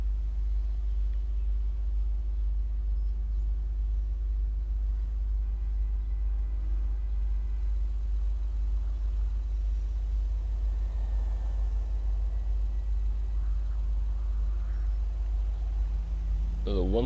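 A car revving up from a standing start on the streets of Los Santos in Grand Theft Auto gives a steady, loud low engine rumble that runs the whole time, with a voice talking over it.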